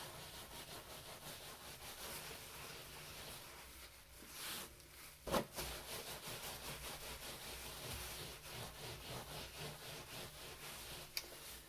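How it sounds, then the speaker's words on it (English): Rolled felt rubbed by hand in a studio, a faint, steady brushing and rasping texture that continues throughout, with one brief louder knock partway through. "I'm just going to give everything a quick rubbing just to make sure there's no little loose bits"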